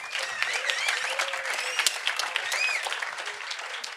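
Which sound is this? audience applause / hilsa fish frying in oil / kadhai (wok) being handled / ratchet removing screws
audience applause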